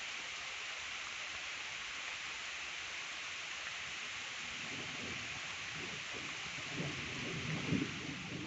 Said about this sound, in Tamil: மழை நிற்கிற மாதிரி இல்லை